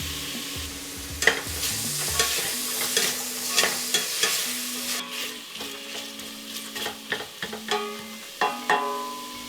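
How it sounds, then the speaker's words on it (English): Pork and burdock root (gobo) stir-fried in butter in a pan for Japanese tonjiru, with a steady sizzle under repeated scraping and clattering stirs, irregular knocks of the utensil against the pan, close and moderately loud with no voices. "add your gobo and stir fry them together for about a minute"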